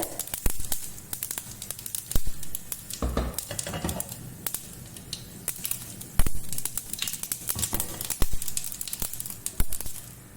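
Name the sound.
mustard and cumin seeds spluttering in hot oil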